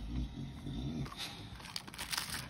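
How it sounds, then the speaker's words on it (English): A dog makes low rumbling, snuffling noises close by, then soft rustling and small clicks follow. "Apologies if you can hear my dog in the background."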